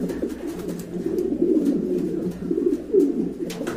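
An active pair of large pigeons with feathered feet coos close up, a continuous low throaty rolling sound that swells and subsides in waves, with faint clicks above.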